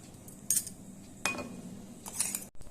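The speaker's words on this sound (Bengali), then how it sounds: "এবার এটাকে আমি পাত্রে ঢেলে রাখবো" A spoon scraping and tapping ground spice paste from a grinding vessel into a bowl, a few brief, quiet metallic clinks and scrapes spaced apart in a kitchen, with no talking.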